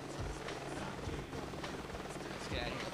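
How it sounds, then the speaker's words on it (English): Helicopters approach in the video game Jet Grind Radio, their rotor thrum steady and dense beneath someone talking over game music and effects. "We got choppers inbound."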